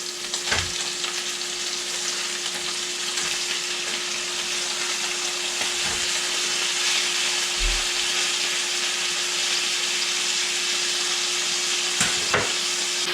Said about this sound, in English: Give our morels another stir here.